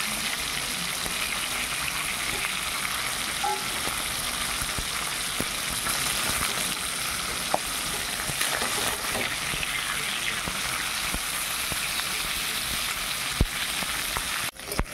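Turmeric-coated fish pieces fry in hot oil in a pan, giving a steady, continuous close sizzle with a few faint clicks and no talking.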